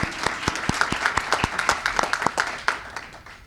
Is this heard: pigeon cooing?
no